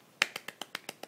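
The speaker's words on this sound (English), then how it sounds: "You golf clap?" A soft golf clap, seven light, evenly spaced claps from a single person, crisp and fairly close, with no talking over them.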